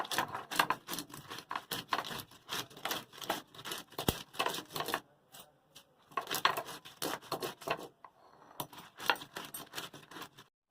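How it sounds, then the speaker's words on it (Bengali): Crab claws pounded and ground on a stone grinding slab in a kitchen, giving a long run of sharp, crunching knocks and scrapes in quick rhythm, close and fairly loud, with a brief pause in the middle and no talking. "কাঁকড়াটা এরকম ভাবে থেতো করে এবার বেটে নেব।"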